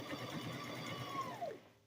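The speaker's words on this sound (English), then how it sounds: "So I'm stitching right over that clear elastic." Sewing machine stitching over clear elastic while making a diaper cover, a steady close whirring hum that runs evenly and then winds down near the end.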